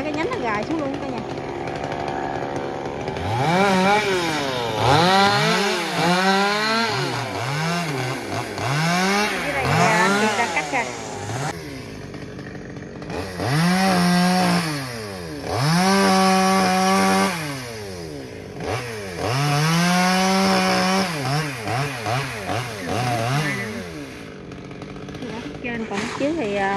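Chainsaw cutting branches off a large ambarella tree at a home, the engine repeatedly revving up and bogging down in loud, rhythmic bursts through cuts, with brief idling gaps and some voices.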